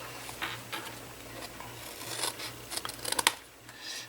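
Scissors snip through cereal box cardboard in short rasping strokes, a few isolated cuts early and then a quicker cluster of crisp snips, close and alone over a low steady hum.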